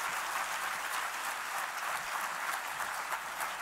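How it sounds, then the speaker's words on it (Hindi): An audience in Pune claps steadily at a health and wellness talk event, sustained, dense applause at moderate volume from start to finish with no speech. "जरा जोर से तालियां बजाइए पुणे"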